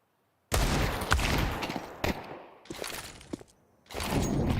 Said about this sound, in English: Jumping AK-47 headshots.